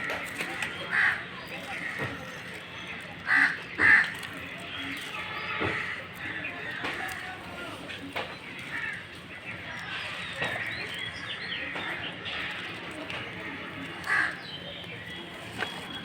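Outdoors near a house, a crow caws a few times at a distance. The short calls sit amid steady background noise and scattered other sounds.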